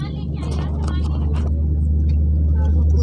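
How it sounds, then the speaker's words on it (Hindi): Airplane engines roar steadily with a deep low rumble as a plane starts its takeoff run, a constant loud drone with people talking over it. "जहाज टेक ऑफ करने लगा है जी"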